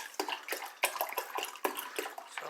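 Water pours into a gallon container while sweet tea is made, a steady splashing stream with uneven gurgling surges and a rising, hollow filling tone, close and fairly quiet.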